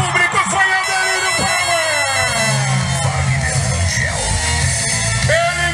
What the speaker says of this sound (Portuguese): O público foi ao delírio